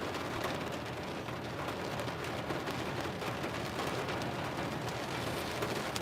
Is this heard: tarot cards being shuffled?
no